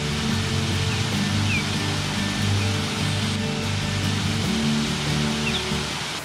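A waterfall flows steadily beside an old mill among blooming rhododendrons, its broad, even rush of water continuous and fairly loud throughout with no voices.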